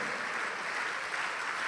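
Church congregation applauding during a worship service, a dense, even wash of clapping from many hands that carries steadily through the whole short stretch without pause.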